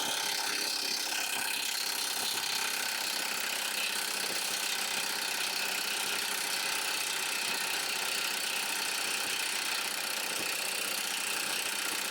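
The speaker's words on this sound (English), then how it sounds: "you're going to need a 32mm socket and a wrench" Rapid, continuous ratcheting clicks of a 32mm socket wrench on a 2006-2011 Honda Civic axle nut, close and loud with a harsh metallic edge, steady throughout without pause.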